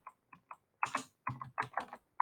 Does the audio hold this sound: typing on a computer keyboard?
yes